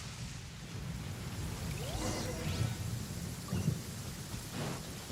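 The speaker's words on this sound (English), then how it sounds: "Lightning storm!" Thunder from a lightning storm in Genshin Impact rolls low and steady beneath constant rain, swelling with a couple of heavier rumbles partway through.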